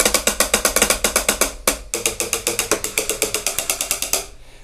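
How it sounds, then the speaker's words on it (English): Electronic hi-hat on a Smart Trigger setup, struck in a fast steady run of crisp ticking hits, with a brief pause before the pattern resumes and then stops. "hi-hat."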